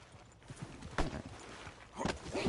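Horse hooves clip-clopping in the video game Red Dead Redemption 2, with a few close, distinct hoof strikes spaced about a second apart over a low background rumble.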